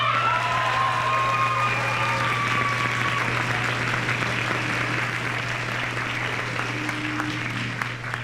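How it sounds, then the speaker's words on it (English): Audience applause at the Wayne Hills spring band concert as students stand one by one, a steady, dense clapping that fills the room throughout, with a low electrical hum underneath. "Feel free to applaud for each of them."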